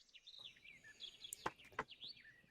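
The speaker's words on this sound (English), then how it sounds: "All you hear is the birds chirping and the wind blowing slightly." Small birds chirp and twitter faintly in a quiet, still outdoor setting, with a few sharper close tweets among the soft calls and very little background noise.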